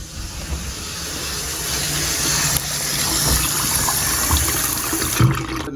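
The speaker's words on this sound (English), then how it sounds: "I'm gonna turn the faucet on the hot side only so we can bleed the air out." A bathroom faucet running on the hot side only while air bleeds from the lines after an electric water heater repair, a steady hissing water flow that builds slightly and sputters briefly near the end, with no voices.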